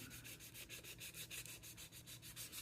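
A plastic RC truck body is scuffed by hand before painting, giving a quiet, rapid, rhythmic series of rubbing strokes, about five per second, close and steady with no talk.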